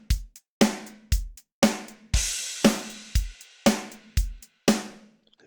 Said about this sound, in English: So from here, I have my, my basic drum rhythm. It just sounds like this.